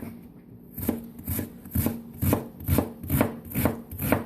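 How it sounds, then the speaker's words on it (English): A knife chops onions finely by hand on a board, about eight quick, evenly spaced thuds that grow slightly louder, close up with no talking. "how in the world do you chop your onions so fine without using a food processor? This is how I do it."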